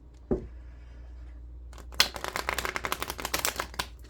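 A quick run of crisp paper flutters, cards riffling close by in a rapid burst after a faint tap and a short quiet pause.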